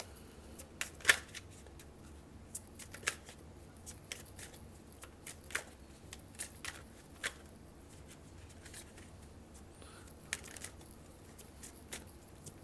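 Tarot cards are shuffled in a long run of crisp riffles and flicks with irregular sharp snaps and soft slides between them, close and fairly quiet.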